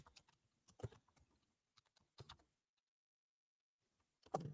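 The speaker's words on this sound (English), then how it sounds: "I'm typing in 2 things." Quick bursts of typing on a computer keyboard, clusters of light clicks close by, broken by a long quiet gap before a final louder flurry of keystrokes.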